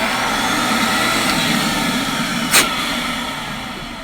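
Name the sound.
Beam central vacuum running with new motor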